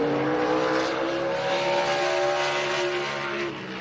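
A NASCAR race car at speed during practice for the Call 811 Before You Dig 250, a loud sustained engine roar with a steady high-pitched drone, close and continuous, slightly fading at the end.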